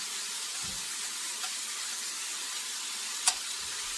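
Beef pieces searing in a hot pan, seasoned with salt and white pepper, give a steady, fairly faint sizzle with a couple of brief pops and no talking.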